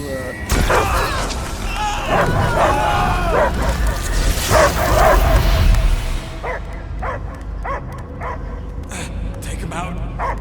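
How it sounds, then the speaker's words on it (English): Dog barking in the video game Guardians of the Galaxy, a few yips and barks mixed with game sound effects and a booming rumble, while characters talk over much of it. "I hear only barking."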